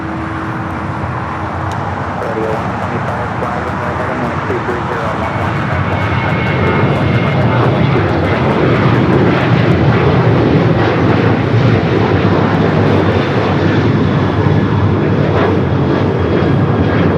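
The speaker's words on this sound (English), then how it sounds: "Sun Country, 737-800, heading back to Minneapolis" A Sun Country Boeing 737-800 jet airliner at Los Angeles LAX airport roars loudly, its engine noise swelling over several seconds into a sustained broad rumble and whine, with faint road traffic beneath.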